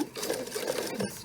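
A domestic sewing machine runs a zigzag stitch to attach a button, a brief, close, rapid mechanical whirring and clatter lasting just over a second.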